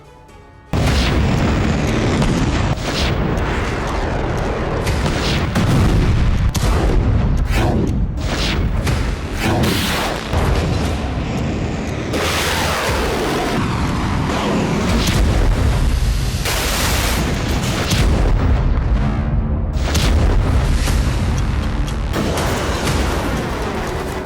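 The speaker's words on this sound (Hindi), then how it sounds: "हिजबुल्ला ने पूरे इजराइल पर मिसाइल और रॉकेट की बरसात की है।" Missile and rocket barrage fired by Hezbollah across Israel, striking areas including Haifa: dense, continuous booms and blasts that roll one after another for the whole stretch, loud and close with no talk over them.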